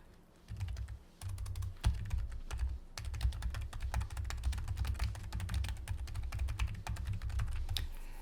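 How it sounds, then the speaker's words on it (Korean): Steady run of computer keyboard keystrokes, a brisk irregular clatter of key presses including Shift and Enter, close and clear with no voices, continuing for about eight seconds. "Shift 누르신 상태에서 엔터를 치게 돼요"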